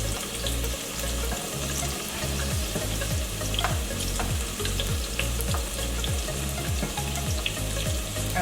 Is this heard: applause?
no